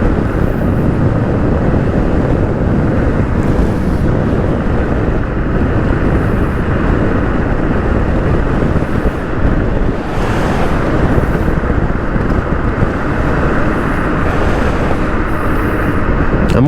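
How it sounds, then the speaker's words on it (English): Heavy, constant wind buffeting roars over a rider on a scooter at speed, a loud broadband rush with steady road and motor rumble underneath and no talk. "Pretty breezy right now."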